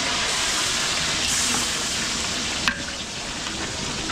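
A pot of food boils on the stove during large-batch home cooking in Antipolo, giving a steady, loud bubbling hiss that runs unbroken, with one brief clink near the end.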